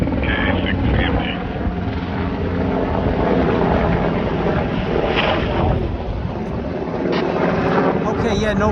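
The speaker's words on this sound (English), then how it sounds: "there's a helicopter flying overhead" A helicopter's rotor thrum drones steadily overhead, fairly loud and continuous, with wind noise and some talking underneath, heard from aboard the Queen Mary ship.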